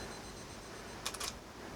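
A camera shutter fires at a slow shutter speed for a food photograph, a faint double mechanical click a fraction of a second apart over quiet room hiss.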